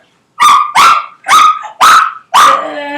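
A person imitates a little puppy, giving five loud, close yipping barks in an even rhythm, the last one trailing off, during a kids' yoga session.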